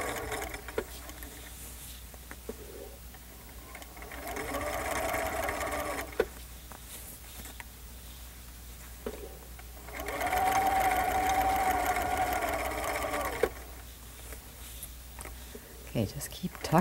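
A sewing machine stitches around a set-in sleeve in two sustained runs of fast, even whirring, separated by quieter pauses while fabric is repositioned, with some light talking in the background.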